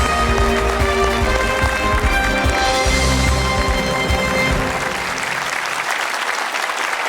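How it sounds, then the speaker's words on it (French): Loud, sustained applause from a large TV game show studio audience fills the room, steady throughout before thinning slightly toward the end. "On vous applaudit."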